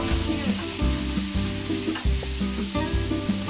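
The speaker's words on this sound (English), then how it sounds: "add in a little bit more olive oil. Add in the onions, the chopped peppers" Onions and chopped peppers sizzle steadily in olive oil in a paella pan, a close, continuous frying hiss with soft stirring scrapes and occasional pops throughout.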